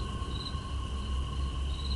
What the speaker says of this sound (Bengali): সবাই ঘুমিয়ে পড়েছে, খালি ঝিঝির ডাক দেখতে পাবে।